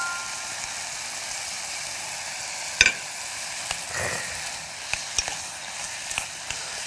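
Minced garlic and chili powder stir-frying in a pan, a continuous bright sizzle with occasional clacks and scrapes of a utensil stirring, close and alone without speech.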